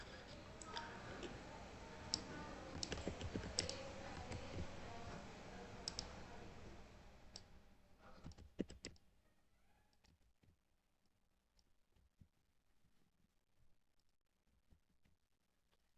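Computer keyboard typing while login details are entered, a busy run of clicks and taps for about eight seconds that then thins out to sparse, scattered keystrokes, close and fairly quiet.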